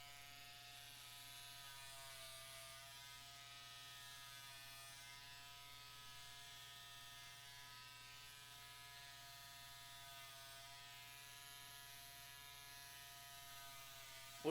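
Electric hair clippers buzz in a continuous, even drone while shaving a head, close to the microphone and alone, without talking.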